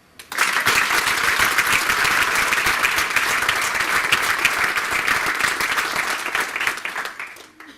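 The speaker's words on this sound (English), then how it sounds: "Please join me in giving them a hand." Sustained audience applause for honored athletes at a 2017 hall of fame event, a dense crowd clapping steadily for about seven seconds before tapering off, with no talking.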